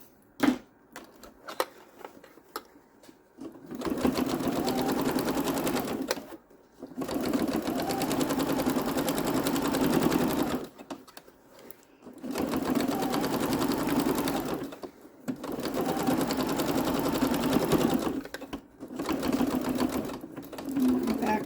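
A sewing machine runs in four long bursts separated by brief pauses, stitching backwards and forwards on a scrap fabric key fob. The motor hum is close and steady, with quiet handling sounds in the gaps.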